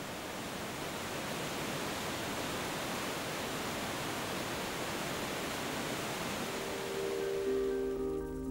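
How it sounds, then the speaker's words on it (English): Waterfall at the Butterloch on a small brook in the Bletterbach Canyon, a steady broadband roar of rushing water that stays loud and unbroken throughout, with a faint tonal hum entering near the end. "Only at the waterfall, the so-called Butterloch, can we get some idea of the enormous forces generating from this little brook."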